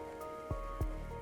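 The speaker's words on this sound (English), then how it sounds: "it's raining right after" Rain falls in a city-building survival game set in a post-apocalyptic world, a steady soft wash under a droning music bed, with two brief low thumps partway through.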